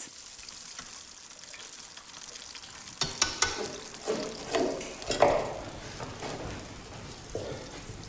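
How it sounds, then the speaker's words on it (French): Poultry dropped into a flambéed pan of port, oil and vegetables in a château kitchen. A quiet simmer is followed by a run of loud, uneven sizzling bursts as the pieces hit the hot liquid. "Après un rapide flambage, il y dépose les volailles"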